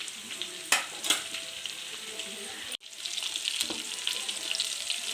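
Cinnamon, bay leaf and onions frying in oil over a low flame, a soft continuous sizzle with a few sharp spatula knocks and a brief break before the frying noise resumes.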